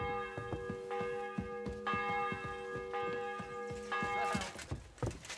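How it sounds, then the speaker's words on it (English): A church bell in Kingdom Come: Deliverance II tolls before an execution, each stroke a loud metallic clang with a long ringing hum, struck repeatedly in a steady rhythm that grows busier and noisier toward the end. "The 11th toll of the bell. The last before the execution starts."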